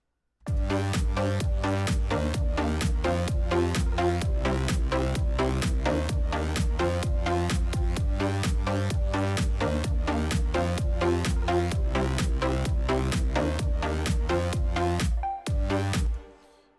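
A fast, busy synth arpeggio, compressed and with Bitwig reverb, pulses continuously within a full mix, bright and washed in reverb, stopping abruptly near the end with a short tail.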